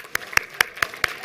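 A few claps ring out at a conference welcome reception, five crisp, separate hand claps in an even, moderately quick rhythm, fairly close with a faint murmur of room noise between them.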